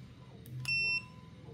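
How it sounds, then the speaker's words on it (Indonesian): A multimeter in continuity mode gives a single clear electronic buzzer beep, a steady tone of about a third of a second, preceded by a couple of faint clicks from the probes. "Terus ini kontinuitas atau buzzer gitu ya."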